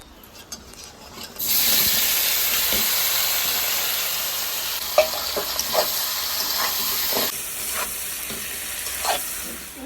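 A sudden loud sizzle erupts as spice-coated fish goes into hot oil, then settles into a steady hiss of frying with occasional crackles and spatters, close and continuous.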